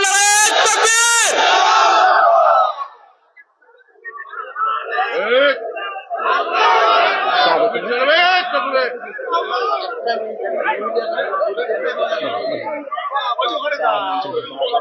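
A large crowd at a Bangla religious sermon gathering roars a chant back after a loud single call, the massed voices surging for several seconds and then trailing into scattered crowd chatter.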